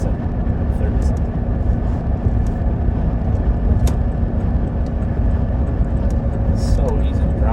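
A 1996 Buick Regal with the 3800 engine cruising on the road, a steady broadband rumble of engine and road noise running continuously throughout, with a voice talking over it.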